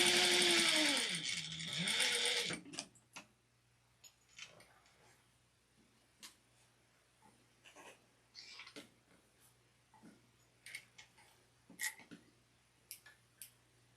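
A sewing machine locks a seam on an apron in a short whirring run at the start, followed by quiet scattered clicks and small handling sounds.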